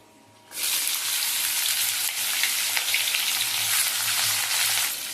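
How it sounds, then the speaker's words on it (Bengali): Sliced beans hit hot oil over a medium-high flame with a sudden loud sizzle that then holds as a steady, dense hiss, close and with no talking. "আমি মিডিয়াম টু হাই ফ্লেমে দিয়ে দিলাম বিনসগুলোকে।"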